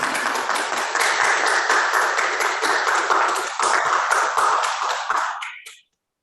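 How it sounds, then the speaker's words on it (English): A seminar audience claps at the end of a talk, a sustained round of many hands at moderate loudness that stops abruptly after about five and a half seconds. "So glad we could hear some clapping at the end there."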